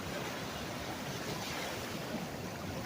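Pacific Ocean waves and surf make a steady, broad wash of rushing noise, with some wind buffeting the microphone.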